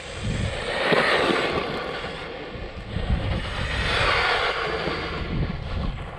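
A brushless-converted Arrma Grom RC car on 3S runs at high speed, its motor a steady rushing whine under wind buffeting on the microphone, heard continuously and fairly loud with no talking.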